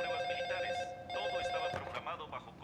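A telephone rings in a scene from a disaster action film, a repeating electronic trill heard fairly quietly under overlapping voices.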